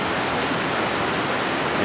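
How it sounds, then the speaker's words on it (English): Steady broadband rush of many creeks, streams and small waterfalls pouring into the Skagit River along the Cascade Highway, a continuous even wash of water with no breaks. "I don't know how many creeks and streams and little waterfalls"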